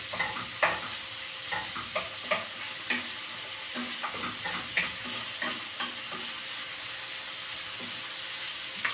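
Pork sizzles and fries in a pan until golden brown as it is cooked for sautéed Baguio beans, with a steady hiss broken by repeated scrapes and stirring clatters.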